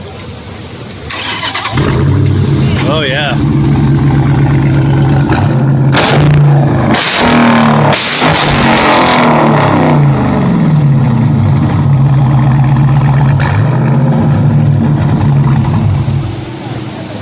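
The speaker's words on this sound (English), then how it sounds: "to fire it up so we can hear that exhaust?" A powerful muscle car engine cranks, fires up and revs hard several times, its deep exhaust rumbling loudly close by, then settles into a steady idle; a voice speaks briefly.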